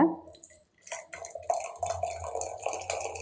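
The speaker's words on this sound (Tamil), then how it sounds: "இப்போ இந்த ஸ்டேஜில் இதை ஆஃப் பண்ணிடலாம் ஒரு டம்ளரில் வடிகட்டிக்கலாங்க" Avaram flower and cinnamon decoction, just taken off the heat, is strained into a tumbler with a close, steady trickle and splash of liquid. No one speaks.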